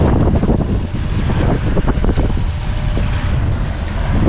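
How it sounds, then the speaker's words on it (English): Strong wind on a fishing boat off Exmouth buffets the microphone with a continuous loud roar and rumble, gusting unevenly throughout, with water and boat noise beneath it. "Bit windy."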